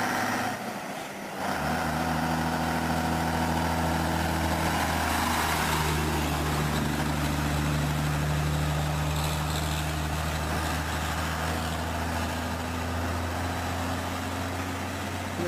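A logging truck loaded with wood logs rumbles past on a rural road in Weymouth, Nova Scotia, its heavy low engine drone and gear hum swelling and holding steady for several seconds, with no talk.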